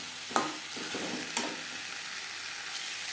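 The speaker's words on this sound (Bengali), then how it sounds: "মশলার সাথে আলু বেশ ভালো করে মিক্স করে দেবো।" Fried potatoes are stirred into spice masala in a pan: a steady moderate sizzle with a few distinct spoon scrapes and taps early on, close up and with no voices.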